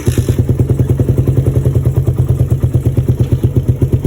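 A Suzuki Satria FU motorcycle engine, tested after a flooding-carburetor fault, runs close and loud with a steady, rapid, thumping pulse that barely changes across the four seconds.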